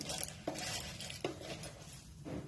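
Mustard seeds and cumin crackle in hot oil while tempering for a leftover-chapati chivda, giving a steady frying hiss with a few sharp pops and stirring clinks, close and alone.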